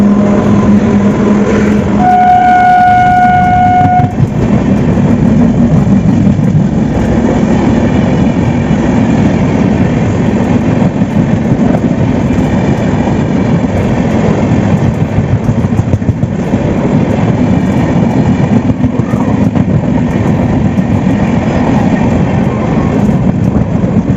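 An express train crosses a moving sleeper coach train, heard from on board as a loud, continuous rumble and rhythmic clatter of wheels on rails, with a brief horn-like tone near the start.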